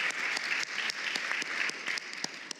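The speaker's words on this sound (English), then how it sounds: "Can everybody give Wendy a round of applause?" An audience at a fashion design event applauds a judge being introduced, a dense, even burst of clapping from many people, fairly distant and consistent throughout.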